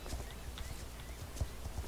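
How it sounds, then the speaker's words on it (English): Horse hooves pounding at a full gallop in the Star Stable video game, a steady rapid clip-clop rhythm with a few sharper strikes, close and moderately loud with no talking. "So let's get into our full gallop."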